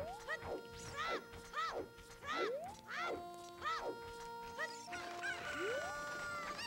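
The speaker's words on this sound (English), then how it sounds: "So I'm going to be collecting these chickens here to get a bottle." Chickens cluck and squawk repeatedly in The Legend of Zelda video game, with clipped in-game calls and steady game music underneath.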